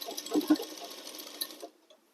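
A sewing machine runs a double line of stitching along the shoulder joint where the back and front panels of a ladies' coat meet, a close, steady whir that stops after about a second and a half.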